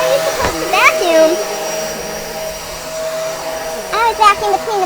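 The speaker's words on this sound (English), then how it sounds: "How are you supposed to vacuum?" A household vacuum cleaner runs steadily at close range with a constant whine, while a voice chatters over it in short bursts, indoors during cleaning.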